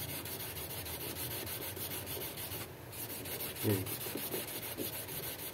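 Hand sanding of a metal pipe, a steady rhythmic scraping rub of abrasive against metal, close and continuous, with one brief word spoken.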